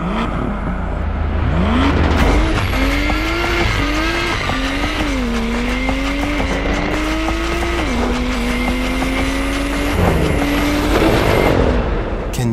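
A BMW M2 fitted with an Akrapovic exhaust drifts hard, its engine revving up and down in stepped surges while the tires squeal continuously throughout, loud and close with no talking.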